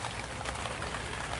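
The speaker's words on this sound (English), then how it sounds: "it's raining" Steady rain hisses close by in a dense, even wash of patter, with no voices.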